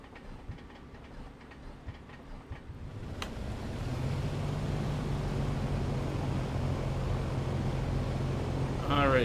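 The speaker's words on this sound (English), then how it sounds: "the engine is up and running" A Piper PA-24-250 engine starts after a quiet few seconds of faint clicks and a sharp crank, then catches into a steady, low rumbling idle that carries on loudly and evenly to the end.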